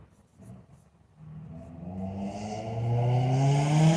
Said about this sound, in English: Yeah, that car's got a backfire going on.